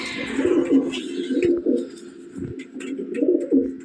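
Teddy pigeons in a loft give soft, close, rhythmic cooing in repeated bursts, with light rustling between calls.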